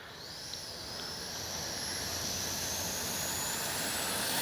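A Flyfans Baltic Bees RC jet engine at full throttle with the afterburner lit, producing a continuous broadband roar with a rising whine that builds slightly in loudness, close and alone.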